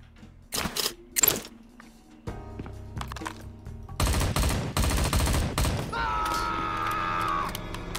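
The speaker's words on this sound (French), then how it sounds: "Qui me tire dessus?" Gunfire in the XIII remake video game arrives in separate loud bursts, then a longer sustained spray of automatic shots, with a whining electronic tone afterward.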